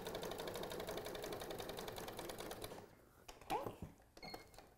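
Domestic sewing machine stitching off the end of a fabric dart at a short 1.5 stitch length, a steady close rapid whirring run for about three seconds, then stopping, followed by brief handling clicks and rustles.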